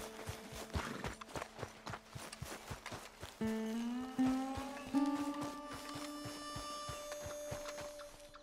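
Horse hooves clip-clop at a steady walking pace in a video game, close and clear, joined midway by a sustained whinny-like tonal sound over ambient background.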